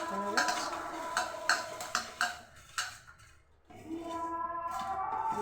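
Eggplant slices being mixed with cumin and chili powder in a bowl: a series of clinks and scrapes of a utensil or hand against the dish, fairly close, with an irregular rhythm and no talking.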